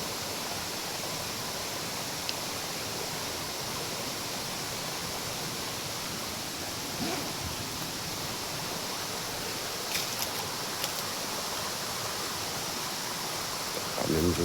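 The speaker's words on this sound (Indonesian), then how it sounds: "Ada di bawahnya air terjun." A waterfall below a steep robusta coffee slope in the Indonesian mountains gives a steady, broad rushing roar. It is constant and even throughout, with only a few faint knocks over it.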